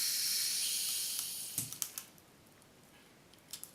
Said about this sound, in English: There was a bit of a fizz, but it seems to be alright.